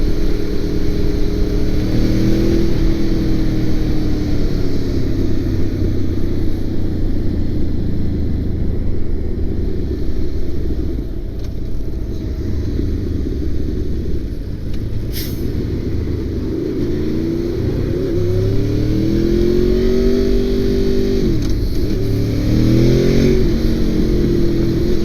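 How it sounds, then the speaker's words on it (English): A red 2002 Honda VFR800 motorcycle being ridden, its engine a continuous close rumble that swells with rising revs at the start and again in repeated climbs toward the end. "But it's still a fast motorcycle."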